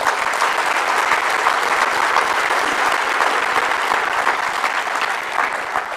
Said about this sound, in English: we deserve to give ourselves a big round of applause for that